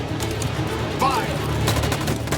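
Gunfire in Detroit: Become Human: a loud, steady rattle of rapid shots with heavy low rumble, continuous through the whole moment and close up.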